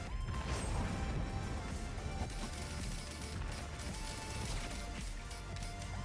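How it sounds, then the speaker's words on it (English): Critical hit sounds during a Risk of Rain 2 run, dense rapid crashing and whacking impacts layered over constant game noise and music, steady and loud throughout. "It's a lot of nice crit sounds we're getting."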